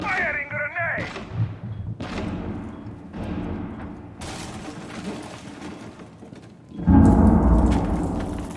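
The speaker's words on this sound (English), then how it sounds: "Firing grenade." A grenade launches during a video game shooting match amid muffled gunfire and heavy thumps, ending in a loud, sustained blast near the close, with players talking over the action.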